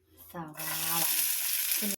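Oil sizzling loudly in a frying pan as chutney preparation begins, a sudden continuous hiss that starts after a brief clatter and runs to the end; a voice speaks briefly at the start and again near the end.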